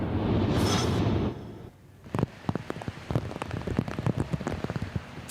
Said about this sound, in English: that's the sound of heavy rain hitting windward Oahu this afternoon